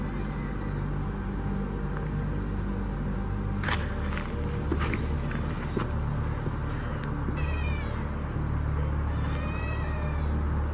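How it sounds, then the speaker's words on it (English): Cat-like meowing calls in dark woods at night, a few drawn-out wavering cries rising over a steady low rumble and hiss, with sharp rustles and footstep-like crunches nearby. "What at first sounds like a cat's meow soon transforms into something far more unsettling"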